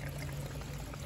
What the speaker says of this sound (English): See, the water is flowing right into this thing